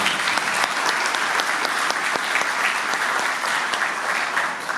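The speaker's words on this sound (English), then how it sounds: "So a big hand for all our inductees." An audience claps for Sports Hall of Fame inductees at a Fairview High School ceremony, a dense, steady burst of many hands sustained loudly throughout with no talking.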